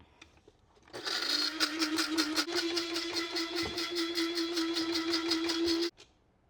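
Tomatoes whir in an electric grinder for about five seconds, a loud steady high-pitched motor whine with rattling chop that starts and stops abruptly, with no talking over it.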